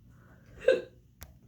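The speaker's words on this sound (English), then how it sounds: "I have hiccups" A single short hiccup from a person partway through a makeup routine, fairly soft and close, followed a moment later by a faint click in an otherwise quiet room.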